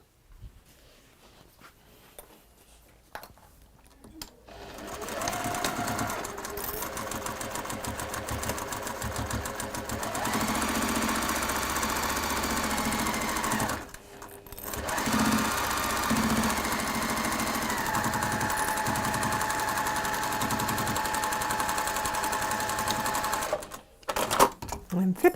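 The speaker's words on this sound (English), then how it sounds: "I'm going to sew down both sides, not along the top" A sewing machine stitches a seam down the sides of a textile piece, running in two long steady stretches with a brief pause between them, its whirring hum close and continuous with no talk over it.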